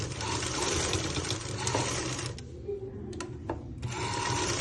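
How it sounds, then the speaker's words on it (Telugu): A sewing machine stitches a shirt with a double seam, whirring in fast continuous runs with brief pauses between bursts, close and loud, while a voice talks faintly underneath. "సేమ్ డబల్ కుట్టు వేస్తున్నా గట్టిగా."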